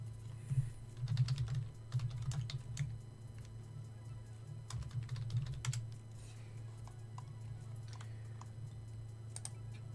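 A computer keyboard clatters in quick bursts of keystrokes with pauses between them, close but fairly soft, over a steady low electrical hum.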